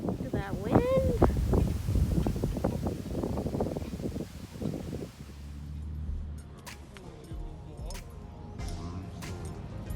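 Gusty wind buffets the microphone outdoors on a windy day, roaring unevenly under a person talking at first and continuing alone afterward.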